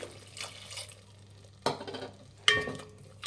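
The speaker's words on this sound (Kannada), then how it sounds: "ಈಗ ಕಾಯಿ ಹಾಲು ಹಾಕ್ಕೊತಾ ಇದ್ದೀನಿ" Coconut milk being added to Iyengar-style bele rasam and stirred, with soft liquid swishing followed by two sharp clinks of a spoon against the pot.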